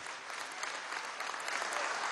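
A crowd applauds steadily at a political address in Venezuela, a dense and fairly faint wash of clapping with no voices over it.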